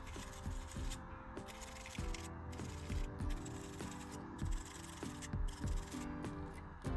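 A brush scrubs a BMW E46 electric window part soaked in brake cleaner, giving repeated rough rubbing strokes in a steady back-and-forth rhythm, close and fairly loud with no talking.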